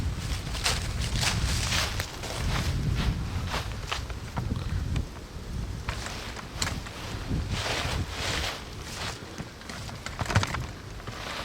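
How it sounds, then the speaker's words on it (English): Wind blows around an outdoor campfire as steady, moderately loud gusting rumble and buffeting across the microphone, with faint crackles and rustling underneath and no speech. "That wind's feeding that fire real well."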